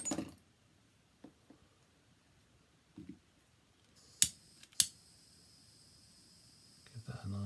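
Scissors snip through cord while making cord art roses, two sharp, close clicks standing out in a mostly quiet stretch with a few soft handling taps.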